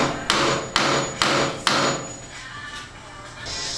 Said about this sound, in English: I could not find Thor's hammer after my mom's brake job, so this one will have to do.